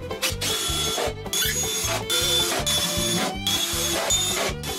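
Power drill driving screws into a wooden workbench, heard as a run of repeated loud whirring bursts with brief pauses between screws, close up and steady, with no talking.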